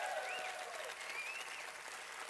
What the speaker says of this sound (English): Let's also give a great round of applause for the immensely talented kids of the Judson ISD Moharimba Band